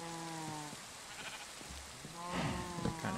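Sheep bleating in the Minecraft video game, two drawn-out wavering bleats with a pause between them, fairly close, over a faint steady hiss like rain.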